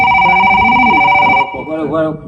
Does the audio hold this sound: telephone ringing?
yes